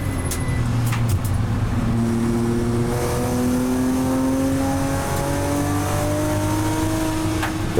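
A BMW 325 Cup race car drives on a cold circuit, its engine droning loud and close from inside the cockpit as the revs climb and fall in smooth sweeps, with a few clicks near the start.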